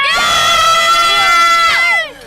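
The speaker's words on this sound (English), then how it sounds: "can you give everyone watching, all the children, everyone, a nice big cheer to show how much fun you're having today?" Three children on a countryside field trip cheer loudly together, a sustained high shout lasting about two seconds and rising in pitch at the end before it cuts off, close and with no other sound.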